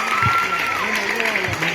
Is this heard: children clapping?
yes